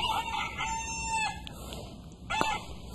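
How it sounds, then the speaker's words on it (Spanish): A mobile phone ringtone plays a rooster crowing, two loud close cock-a-doodle-doo calls with a short gap between them, alone without talk. "tu celular suena como gallo"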